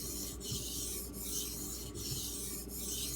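Knife blade rubbed across an RH Preyda Arkansas 3k water stone with slurry, a continuous soft rasping scrape in steady back-and-forth strokes with brief pauses at each turn, close and quiet.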